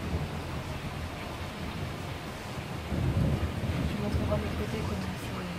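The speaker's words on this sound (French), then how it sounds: "Je sais pas si vous l'aurez entendu là le tonnerre" Thunder rolls outside during a storm, a low distant rumble that swells about midway and lingers under wind noise, with faint indistinct voice sounds in the background.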